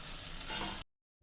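Tomatoes stirred into a hot frying pan for fried rice, a brief dense sizzle with stirring scrape, close and loud, cutting to silence before the end.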